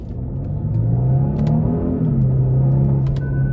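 A 2024 Genesis G80 Sport Prestige with a 3.5-litre twin-turbo V6 pulls hard from first gear, its engine note climbing and holding loud and steady, heard from inside the cabin with no talk.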